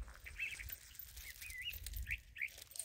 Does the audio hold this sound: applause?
no